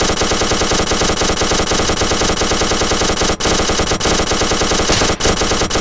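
Sustained rapid machine gun fire from a mounted gun in a Minecraft zombie apocalypse game, loud and continuous with only brief breaks, rattling steadily throughout.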